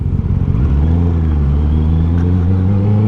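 Honda CB650R with an Akrapovic full exhaust system revving up, its deep engine note rising and holding in a loud, close, sustained roar with steady harmonic tones.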